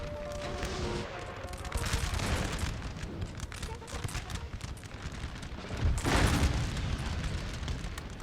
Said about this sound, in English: That bomb went off